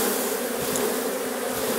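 A honeybee swarm spilling from a hive on a farm gives a dense, continuous close buzz with no voices.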